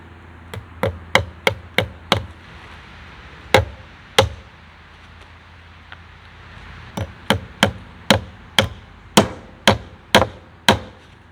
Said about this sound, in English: I'm also not nailing these super hard